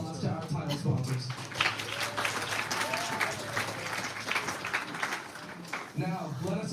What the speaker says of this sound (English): Let's give them a round of applause to our title sponsors.